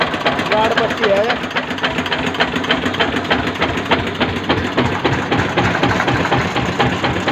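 An original 1993 Eicher tractor with an alternator and guard strip runs at work, its engine a steady, loud, pulsing chug that fills the whole stretch, with a voice heard briefly over it.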